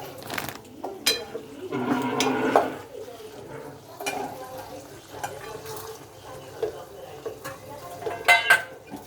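A spoon mixing ingredients in a pot in a home kitchen, with irregular clinks and scrapes of metal on metal, close by, while people talk intermittently.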